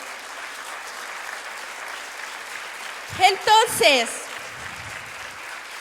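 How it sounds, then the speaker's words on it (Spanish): A church congregation applauds in a steady, even wash of clapping throughout, with a voice briefly speaking over it partway through. "Dele un aplauso al Señor"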